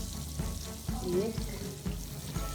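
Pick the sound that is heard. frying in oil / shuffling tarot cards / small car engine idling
frying in oil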